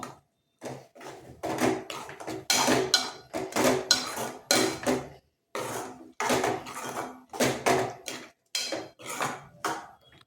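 A spoon stirring shallots in a cooking pot for vegetable kurma, with repeated scraping and clinking bursts in an uneven rhythm, separated by short pauses, close and clear with no talking.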